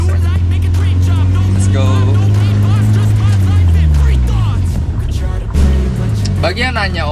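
A yellow car fitted with a Rocket Bunny body kit pulls away, its engine note rising and falling close by under steady talk from people inside.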